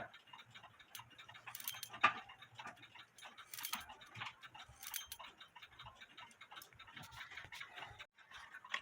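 Close, light ticking from a GK cuckoo clock's countwheel movement, running as it is reassembled, with scattered small clicks and handling noises over a quiet background.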